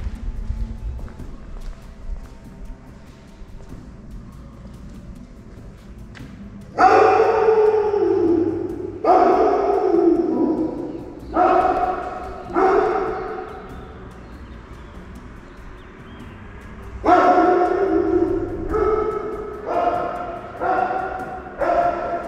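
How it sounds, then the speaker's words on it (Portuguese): A dog inside an abandoned hospital barks in loud, echoing bursts, first one pair and then a rapid run of several barks after a long pause, over a low hum of background noise. "Caramba, cara, que medo, velho, desse cachorrinho."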